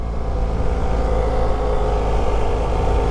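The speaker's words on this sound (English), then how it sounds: "we're using the compression of the bike in order to hold us back" A motorcycle descending Mount Washington under engine braking, with a steady, loud low rumble of the engine held back by compression, continuous and close with no talk over it.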